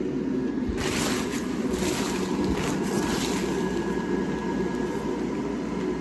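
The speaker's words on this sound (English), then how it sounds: "Now, Dracula is going to be the first one to inflate, since his animation motor is right there" Gemmy animated inflatable vampire coffin Halloween decoration inflating, its blower fan producing a constant breathy whoosh with a low rumble, loud and steady throughout with no speech.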